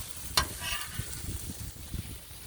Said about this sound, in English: stir our meat